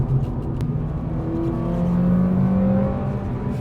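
A 2004 Acura RSX Type-S engine revs steadily and loudly nearby, its pitch climbing smoothly through the upper range with a sustained, rising whine and no talk over it.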